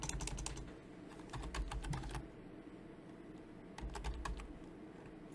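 Typing on a computer keyboard in bursts of rapid, light clicking, with a short pause in the middle, close and fairly quiet, with no talk.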